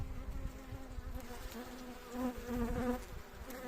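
Steady insect buzzing from many calm honeybees at a hive, a continuous low drone that swells slightly near the end, with no voices.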